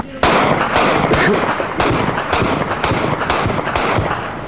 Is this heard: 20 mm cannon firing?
yes